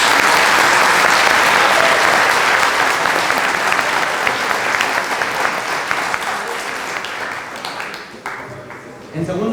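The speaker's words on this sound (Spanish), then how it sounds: "Vamos a recibirla con un fuerte aplauso." Loud, sustained applause from a large audience, dense clapping that gradually thins and fades toward the end.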